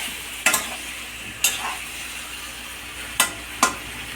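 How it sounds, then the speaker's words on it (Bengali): Potato curry with drumstick fritters cooks in a pan with a little water. Four distinct scraping stir strokes sound over a soft, steady sizzle, and no voices are heard. "আর একটু জল দিয়ে একটু আবার কষাবো।"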